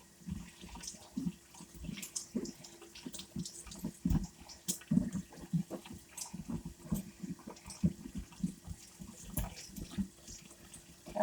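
Tap water runs into a sink while an eggplant is washed under it, a steady close splash broken by uneven bursts and gurgles as the vegetable is turned under the stream; no one speaks.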